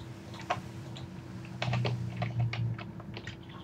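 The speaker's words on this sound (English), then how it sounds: "Sorry about the massive amounts of clicking." Computer keyboard keys and a mouse click in a rapid, uneven patter during a Tekkit game session, close and fairly quiet over a steady background hum.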